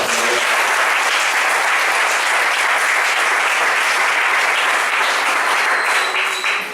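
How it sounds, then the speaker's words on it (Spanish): A church congregation applauds during a sermon, a loud unbroken roar of many hands clapping that fills the room for the whole stretch, with faint voices underneath. "Denle un aplauso a Dios"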